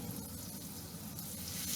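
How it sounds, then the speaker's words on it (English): Flour-coated green tomatoes sizzle in a frying pan, a steady crackling hiss that carries on evenly and close throughout, with no talking. "we've got them frying over there"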